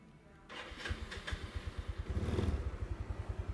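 A modified Yamaha Mio motorcycle engine cranks and fires after a short pause, then settles into a steady, rapid thumping idle close by, with a brief rev in the middle.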